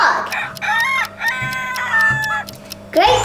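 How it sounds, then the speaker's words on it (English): A rooster crows loudly and close, a long rising and falling cock-a-doodle-doo followed by a few short clucks, standing alone without talk. "Great job! It's a rooster. Roosters crow early in the morning to wake up everyone up."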